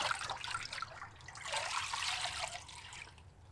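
Water sloshing and trickling in a gold pan full of black sand, close and continuous with swirling splashy surges, no talking.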